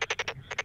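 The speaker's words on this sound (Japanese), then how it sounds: "泣いているのは東京ダルマガエル" Tokyo Daruma pond frog calling with rapid, evenly spaced rasping pulses, four in quick succession, a brief gap, then three more, close and distinct.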